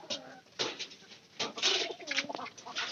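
A white pigeon coos close by, several soft rolling coos in quick succession at low volume, nothing else heard.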